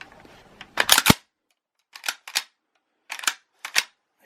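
Deactivated M16A1 rifle being charged with an empty magazine fitted, its bolt carrier pulled back, giving a series of sharp metallic clacks and clicks in short separated bursts, close and clear with no talking.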